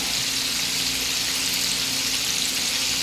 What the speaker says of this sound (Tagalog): magprito naman tayo ng tilapia at saka ng bangus